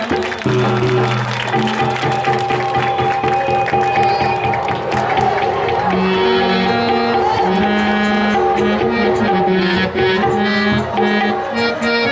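Loud, sustained applause and cheering from an audience, dense and continuous throughout, layered over music.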